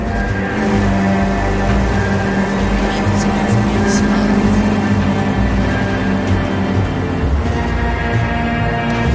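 Car engine drone from the L.A. Noire video game, a steady loud hum with shifting tones throughout, mixed with game ambience and a voice speaking over it.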